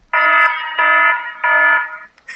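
An Ivee voice-controlled device plays its Alarm 1 tone: three loud, steady electronic buzzing beeps in a slow rhythm, heard alone with no talk, ending in a brief click.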